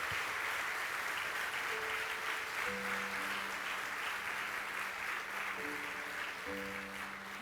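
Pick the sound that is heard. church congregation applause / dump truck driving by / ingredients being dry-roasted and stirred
church congregation applause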